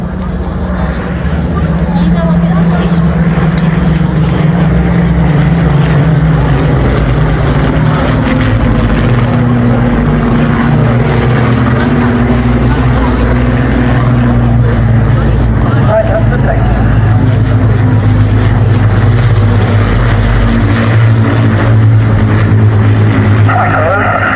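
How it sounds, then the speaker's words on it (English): A Spitfire and a Hurricane fighter fly over the Blackpool airshow with a Lancaster bomber, their piston engines a loud, sustained droning roar that swells and holds, with crowd noise and wind around it. "Spitfire and a Hurricane"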